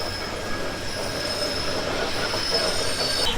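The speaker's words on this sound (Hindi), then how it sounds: "ये है यहाँ की पैसेंजर ट्रेन।" A passenger train in Ukraine rolls steadily along the rails, a loud continuous roar with sustained high wheel squeal running throughout, heard up close from on board, without talk.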